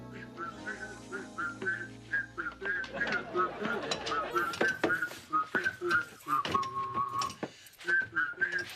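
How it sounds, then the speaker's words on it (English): Person whistling a tune while working in a kitchen on a small wheeled creeper, clear melodic whistled notes throughout alongside ratcheting, clicking mechanical work noises, with talk in the middle. "do you have to whistle like that while you work?"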